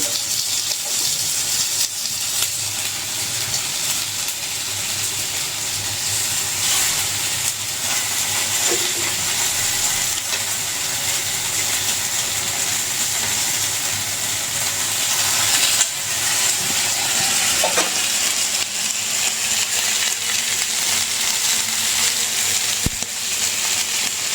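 Boiled chicken pieces frying on a grill pan: a loud, continuous hissing sizzle that runs evenly throughout, with no talking.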